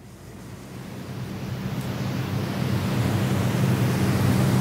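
Steady pink noise plays as a relaxation program, a smooth continuous hiss like distant surf that gradually grows louder with no talking over it.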